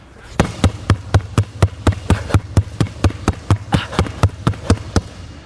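Two basketballs dribbled together at full speed in a two-ball same-time drill, giving a fast, steady run of about twenty sharp, loud bounces evenly spaced, close by, with no talking.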